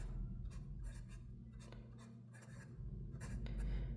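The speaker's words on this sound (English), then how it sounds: "you can write different angles with this nib, and it has the feeling of an architect nib" Soft scratching strokes of a Montblanc fountain pen nib writing on Kokuyo paper, close and quiet, in short bursts with small gaps between them.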